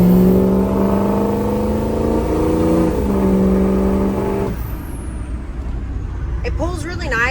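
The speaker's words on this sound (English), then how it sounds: "window down here to get some exhaust noise." A 2003 Ford F350 Powerstroke diesel dually pickup's exhaust drones low and steady, its tone shifting as it pulls, then drops off midway; a voice speaks briefly near the end.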